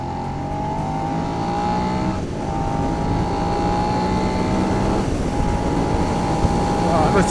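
A 2020 Suzuki SV 650 motorcycle pulls hard through the gears, its engine note climbing steadily in long sweeps with brief dips at each shift, loud and constant with wind rush, and a voice talks over it.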